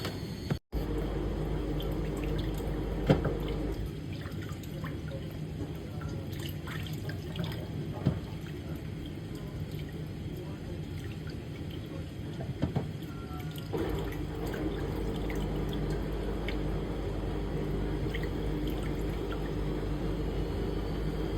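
Tap water running into a sink while chicken feet are washed, a steady close rush of water with occasional clatters and splashes as the feet are handled, continuing throughout.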